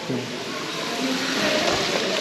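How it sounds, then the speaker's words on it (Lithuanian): Steady splashing of falling water from a small pump-driven artificial waterfall at a manor estate in Kretinga, Lithuania, continuous and fairly close, with faint voices murmuring in the background. "Kriokliukas gražus padarytas, irgi su varikliukais."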